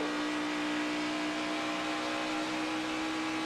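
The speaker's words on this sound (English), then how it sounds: "you heard Justin Haley kind of playing with the throttle right there" A NASCAR Xfinity Series race car engine holds a steady high whine, throttle shifting slightly, loud and close, with no voices.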